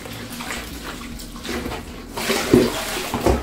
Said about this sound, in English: With a soft sponge, clean the bowl that you're going to be using to soak the mirror.